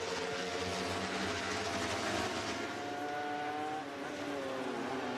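British Superbike motorcycles race at Snetterton, several engines screaming at high revs as the bikes run in close convoy, tones rising and shifting through gears as they pass at moderate distance, fairly faint with no voice over them.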